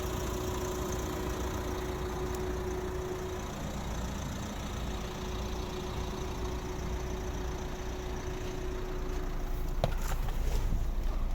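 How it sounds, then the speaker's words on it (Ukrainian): A 2010 Nissan Qashqai+2 with a 1.5 dCi diesel idles steadily with its climate-control fans running, a constant close low engine drone and fan whoosh throughout, with no talk over it. "Чуть як включаються вентилятори, тому що включив клімат-контроль."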